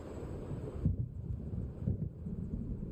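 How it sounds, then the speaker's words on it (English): Low rolling thunder of an approaching storm in Alan Wake, deep muffled rumbles swelling twice over a steady windy backdrop, distant and moderately loud. "It seems there's a storm coming."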